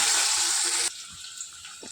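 Potatoes dropped into hot oil spiced with radhuni in a pan, cooking for a Bengali katla fish curry: a loud, steady sizzle that cuts off abruptly to a faint residual crackle, with no talk.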